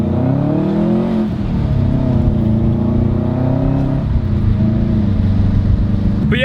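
A Maserati drives past with a loud, steady engine drone and a smooth, rising tone that holds throughout, heard close by with no voices.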